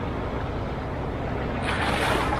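A boat motor drones steadily across the water, its rushing noise swelling slightly as it passes nearby, with no voices.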